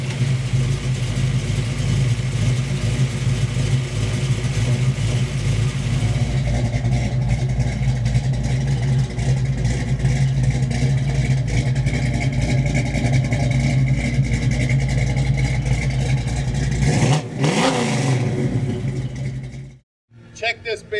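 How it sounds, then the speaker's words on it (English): 1974 Plymouth Barracuda with a crate motor running and revving up close, a steady loud engine rumble with rising revs and a sharp burst near the end before it cuts out, with speech over part of it. "So come on up and let's fire this baby up."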